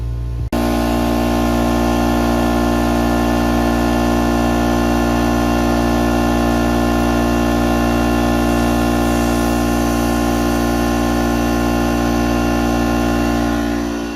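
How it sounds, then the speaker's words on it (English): Air compressor running to build pressure for blowing out an irrigation system: a steady, loud motor drone with sustained humming tones, starting abruptly and continuing unchanged throughout. "now I'm just going to wait till the compressor gets up to pressure"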